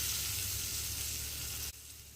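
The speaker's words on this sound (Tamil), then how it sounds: "சட்னி தாளிச்சிட்டேன்." Chutney tempering sizzling in hot oil, a loud, close, steady hiss that drops abruptly near the end, with no talk.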